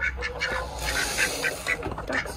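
A duck quacks repeatedly in a quick, honking series, close and clear, with several calls spread evenly across the moment.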